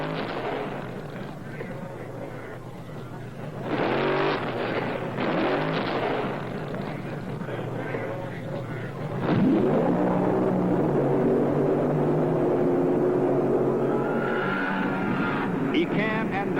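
A funny car drag racing run: the roaring, crackling exhaust of the Plymouth funny car Pineapple Cow, loud and sustained, rising in intensity as it launches down the strip, with an announcer's voice partly under it.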